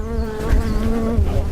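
A dense swarm of bees buzzes loudly and continuously in a comedy skit, close and steady, with a wavering high drone and no voices.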